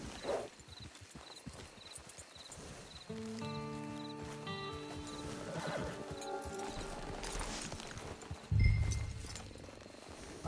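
A horse whinnies and its hooves clip-clop at a steady pace in Red Dead Redemption 2, set against quiet ambient sound with a snort near the end.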